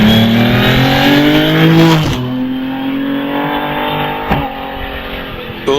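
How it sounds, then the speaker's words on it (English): A hillclimb race car's engine screams loudly as it accelerates up the hill, pitch climbing steadily through two upshifts with brief drops, close and alone without talk. "Listen to the engine on this one. Doesn't it sound fantastic?"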